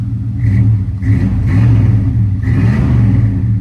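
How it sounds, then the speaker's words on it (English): A modified square body Chevy truck engine rumbles close and loud, its revs swelling in a few repeated pushes of the throttle, with no voices. "Let's give her a little rev."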